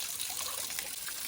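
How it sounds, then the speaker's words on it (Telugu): A perennial spring-fed stream of water trickling and splashing steadily at a Lakshmi Narasimha Swamy hilltop temple in Telangana, a bright continuous close-up burble with no voices. "ఇదేనండి నిత్యం ప్రవహించే జలధార, చింతామణి జలధార."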